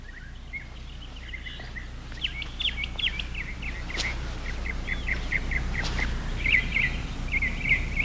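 Small birds chirp and trill in a series of short, bright calls over a quiet outdoor background, growing more frequent toward the end.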